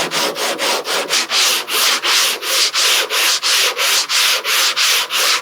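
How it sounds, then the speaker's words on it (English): Steady back-and-forth sanding, a rhythmic rasping scrub repeating about three times a second, close and loud, with no voices. "I'll be here sanding."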